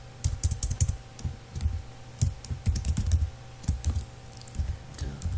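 Rapid keystrokes on a computer keyboard while code is entered, bursts of close, clicky taps with short pauses between runs and no talking.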